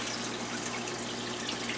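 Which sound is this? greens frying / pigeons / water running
water running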